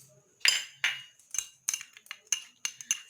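A spoon stirs onion and ginger juice together, giving a close run of sharp metallic clinks against the container at an uneven, quickening rhythm, with no talking.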